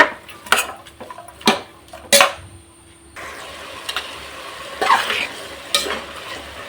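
Tomatoes fry in oil in a pan as a utensil stirs them, giving a steady low sizzle broken by several sharp scraping knocks against the metal, close and fairly loud, with no talking.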